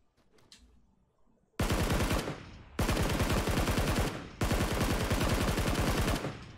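After a quiet start, three long bursts of rapid automatic gunfire in PUBG on Xbox One rattle loudly, each sustained for over a second with brief gaps between.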